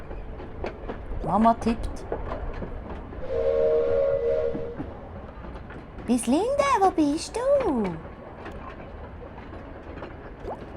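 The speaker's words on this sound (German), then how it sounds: "Wir gehen mit dem Zug." Train ride in the video game Moonlight Peaks: a steady rumbling carriage with a whistle-like tone and short tonal game sounds, heard under and between German-speaking voices.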